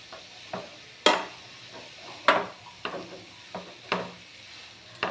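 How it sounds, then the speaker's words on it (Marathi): Grated mango stirred and sautéed in ghee in a pan while making saffron sugar mango preserve: soft frying sizzle under repeated scraping stir strokes, about seven sharp spatula sweeps spread across the span, close and moderate, no talking. "हा किस छानपैकी परतून घेणार आहोत आपण आता तुपावर।"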